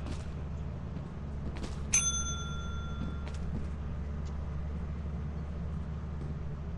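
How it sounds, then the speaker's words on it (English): In the video game Lethal Company a bell gives one clear metallic ding that rings out for about a second over a constant low mechanical hum, with no voices during it. "To your right, ring the bell."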